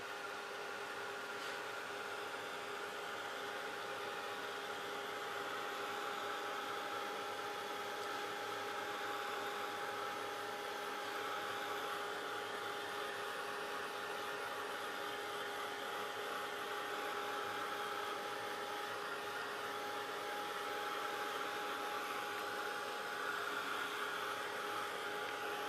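Hair dryer blowing steadily on a heart-shaped craft tag to dry blended colours, a continuous close, even whooshing hum with no talk.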